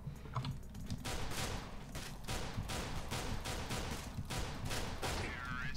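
Rapid bursts of gunfire in Counter-Strike: Global Offensive crackle in quick succession, loud and close, with a faint voice briefly heard at the start.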